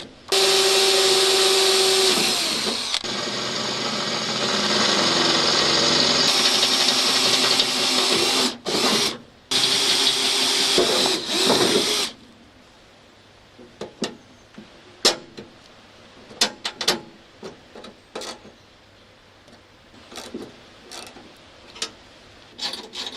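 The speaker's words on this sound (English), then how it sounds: "so I'm going to have to drill some new holes." Power drill boring new holes through a steel plate welded onto the deck of a 52-year-old rusty brush mower, a loud continuous whine for about twelve seconds, then quieter scattered clicks and taps from handling metal.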